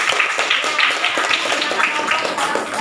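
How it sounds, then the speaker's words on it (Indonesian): Many children clapping their hands together, a dense, steady patter of claps that carries on without a break, fairly loud and close. "Iya, baru tepuk tangannya."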